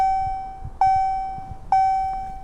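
A steady electronic alert tone from an earpiece rings out in three repeated beeps, each a sustained pure pitch restarting about every second, clear and close.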